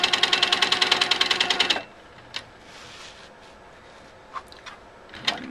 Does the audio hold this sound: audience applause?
no